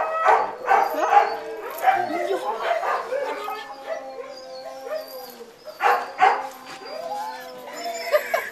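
Huskies bark, yip and whimper excitedly while being loaded into a dog trailer, a busy overlapping chorus of yelps rising and falling over several seconds.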